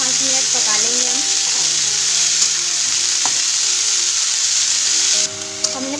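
Cowpeas and chillies frying in a pan, a loud, steady close sizzle with a few stirring knocks, easing slightly toward the end.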